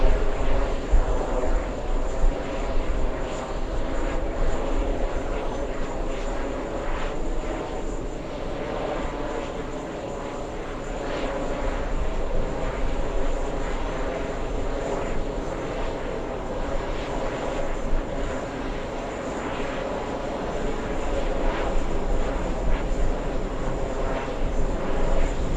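An airplane landing at JFK airport makes a loud, sustained engine roar that swells and eases gently over the whole span, with no talk over it.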